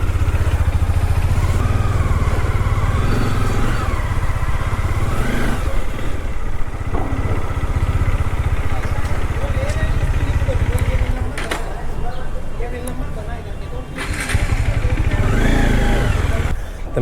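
A Bajaj Dominar 400 motorcycle runs with a steady, loud engine drone close by, its pitch shifting as it pulls away, while someone talks over it.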